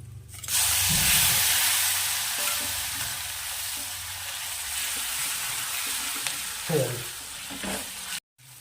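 Masala with tomato and asafoetida fries in a hot pan, giving a loud, steady sizzle with occasional stirring scrapes partway through, heard close up and without talk.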